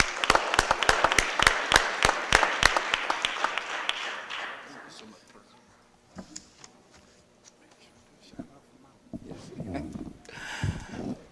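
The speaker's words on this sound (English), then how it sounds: "Let's give them one more big round of applause." A burst of lively clapping from a small group at a Board of Aldermen meeting, sharp and close, fading out after a few seconds into quiet room noise and shuffling.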